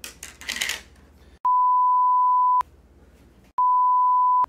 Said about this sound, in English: It means I have to beep it out.